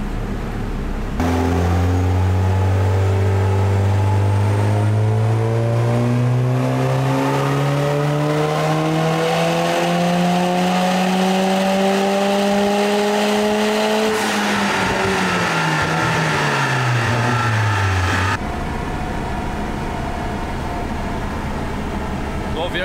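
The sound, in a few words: Golf 3 with 1.8T engine and DSG gearbox revving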